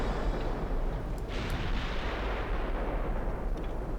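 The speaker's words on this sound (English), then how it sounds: "They're both firing HE." Heavy battleship guns firing high-explosive shells in the naval warship game Ultimate Admiral Dreadnoughts, a dense rumbling barrage of deep booms that rolls on continuously with a couple of sharper reports rising out of it.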